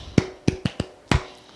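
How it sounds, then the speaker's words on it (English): A young girl claps for herself after reading aloud, five crisp, close claps in an uneven rhythm, the last one slightly doubled, with quiet room tone between and no talking. "clap for yourself."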